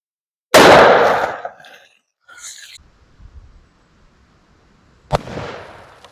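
A .45 Long Colt revolver firing a 325-grain hard-cast round through a row of water jugs: one loud sharp report with a splashing, rattling tail, brief spatter, then a second crack about four seconds later.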